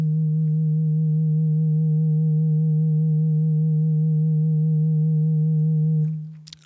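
A steady, low synthesizer sine tone hums evenly for about six seconds, then cuts off abruptly with a brief click.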